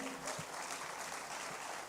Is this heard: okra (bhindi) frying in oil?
no